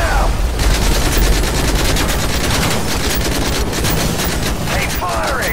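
Sustained automatic gunfire in a Call of Duty: Modern Warfare 3 battle against an attacking helicopter, rapid loud bursts running throughout with booms and shouted voices mixed in.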